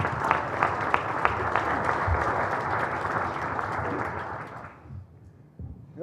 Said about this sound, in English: Let's give him a big warm applause.